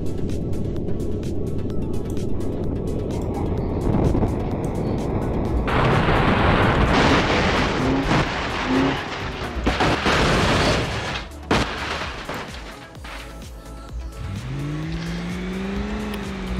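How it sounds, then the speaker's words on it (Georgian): A sports car slams into a wall in the BeamNG.drive driving game, with engine roar, heavy crunching impacts and bangs through the middle, then a rising engine whine near the end, no talk. "მე იმედი მქონდა რა ავტომობილი გაანგრევდა კედელს და გააგრძელებდა მოძრაობას, მაგრამ ასე არ მოხდა"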